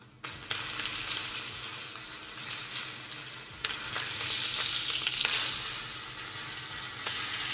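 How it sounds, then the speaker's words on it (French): Rack of lamb searing in a hot pan, a steady close sizzle and crackle with a few sharp clacks as the meat is turned, no voices. "Donc là je vais faire colorer chaque côté de mon carré"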